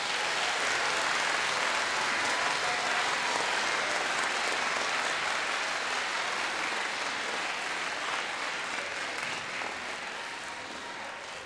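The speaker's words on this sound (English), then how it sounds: "Give these students a round of applause." At a school awards ceremony, a large audience gives students a long round of applause, thick steady clapping that holds for several seconds before gradually tapering off.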